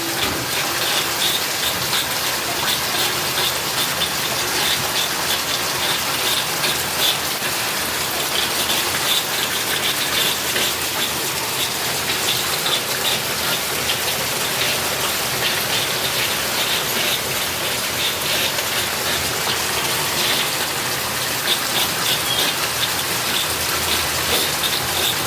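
Heavy rain pours down steadily and loudly for the whole stretch, a dense, unbroken roar of drops drumming on surfaces, with no voices over it.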